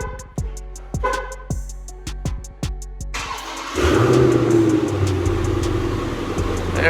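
A car's factory remote start fires the engine after a run of sharp clicks or chirps, then it settles into a steady, fairly loud idle rumble with no talking.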